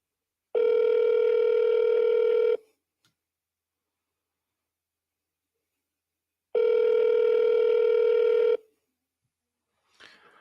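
An outgoing phone call rings back twice, each long steady electronic tone lasting about two seconds followed by a matching silence, clear and close, with a faint click at the end.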